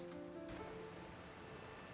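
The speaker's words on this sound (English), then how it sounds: "Cryo is always far more effective in the rain" Steady rain falls in Genshin Impact as an even, close hiss of patter, with a few faint tonal game sounds near the start and no voices.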